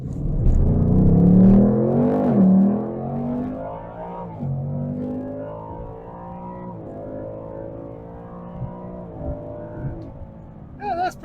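A Mach 1 car pulls away on a drive, its engine roaring loudly as it revs and climbs through gears at first, then settling into a quieter, steady cruising rumble.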